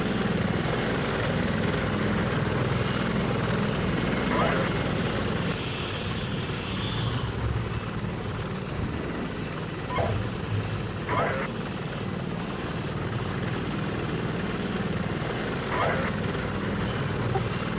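An AH-64 attack helicopter in a military video game thrums steadily with a continuous rotor and engine drone, close and sustained, while voices talk over radio chatter.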